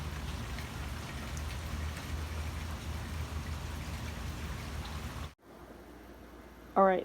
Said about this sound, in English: So I'm just sitting out here enjoying the rain.